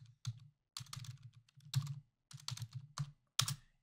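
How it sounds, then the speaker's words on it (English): Fingers type on a computer keyboard in several quick bursts of close, crisp key clicks separated by brief pauses. "and let's type coffee cup."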